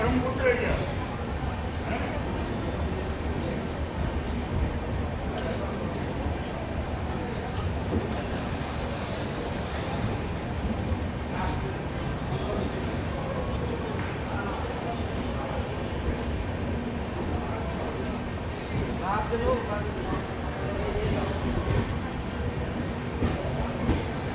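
Brahmaputra Mail from Kamakhya to Delhi, heard from inside a coach: a steady rumble with faint rhythmic wheel clatter, with voices in the coach over it.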